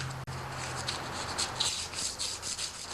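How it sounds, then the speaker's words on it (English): A John Deere 316 tractor wheel rim is sanded by hand, making close, rhythmic rubbing strokes in short repeated passes, fairly quiet, with no talking. "So I'm just really sanding it to give the next coat of paint some teeth to grab on."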